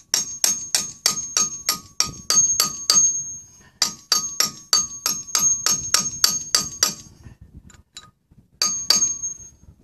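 A blunt chisel taps repeatedly on a 1993 Land Rover Defender's front brake disc, making bright metallic ringing clinks in fast steady runs with brief pauses and a few final taps.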